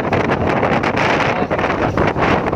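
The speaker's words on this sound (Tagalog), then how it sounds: "Napakalakas ng hangin" Strong wind on the top deck of a ship at sea, a loud, continuous roar that buffets the microphone in rough, gusty waves.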